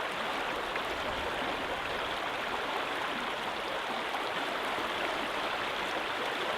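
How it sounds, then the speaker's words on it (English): A river rushes steadily around someone standing in the water, a dense, continuous broadband roar of flowing current with no pauses, close and loud throughout. "standing in this river."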